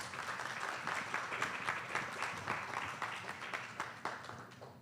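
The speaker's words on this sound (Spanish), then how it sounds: "Un aplauso, por favor, para Hugo Arellanes." Audience at a colloquium on racial profiling in Mexico City applauds steadily, a dense wash of many hands clapping at moderate distance that fades slightly toward the end.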